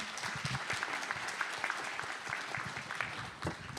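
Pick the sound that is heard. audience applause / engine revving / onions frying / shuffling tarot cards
audience applause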